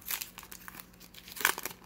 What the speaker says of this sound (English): I've been wanting to rip a pack of these for a while now